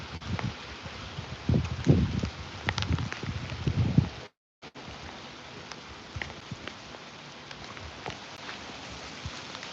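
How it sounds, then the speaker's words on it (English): Rain falls outdoors, a steady broadband patter with denser bursts of drops and some wind buffeting the microphone, louder in the first few seconds, cutting out briefly, then continuing more softly. "Is that rain? Look at this rain."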